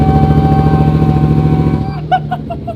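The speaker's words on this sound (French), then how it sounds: "Le démarrage de la MT." A Yamaha MT-07 motorcycle engine runs with a loud, throbbing idle close by, then cuts out near the end, followed by a few short sharp clicks or taps.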